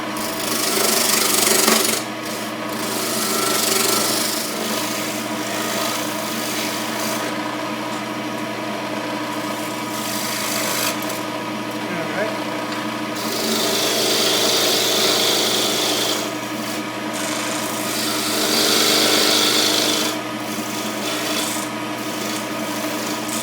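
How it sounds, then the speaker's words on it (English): A mahogany bird feeder turning on a wood lathe at about 1500 RPM, with a continuous close scraping rasp as the tool trims the rough outside edge, swelling and easing in intensity. "I'm just taking off the rough edges."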